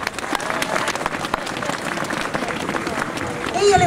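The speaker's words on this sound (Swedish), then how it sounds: "så ge henne en varm applåd" Warm applause from an audience welcoming a singer onstage at a company's 50th anniversary event, sustained clapping from a crowd, rising slightly at the end as a voice begins.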